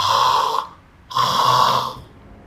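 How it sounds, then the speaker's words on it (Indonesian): Two loud, rattling snores come close together, each a rough drawn-out breath with a buzzing rasp, separated by a brief quiet pause. "napas yang mengorok"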